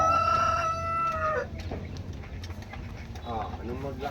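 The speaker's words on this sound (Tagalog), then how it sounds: "Panabong na to mga to." Fighting roosters crow loudly in long drawn-out calls near the start and again toward the end, with clucking and someone talking in between at a Philippine home.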